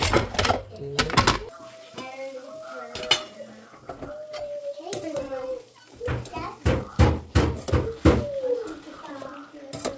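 Plates, pots and cutlery clatter and clink in a busy home kitchen as dishes are washed, with sharp repeated knocks and scrapes up close, while adults and children talk over and between the sounds.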